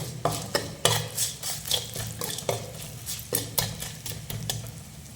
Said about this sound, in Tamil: ரைஸ் போட்டு மிக்ஸ் பண்ணிடுறோம்